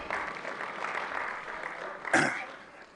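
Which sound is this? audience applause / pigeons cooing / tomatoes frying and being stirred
audience applause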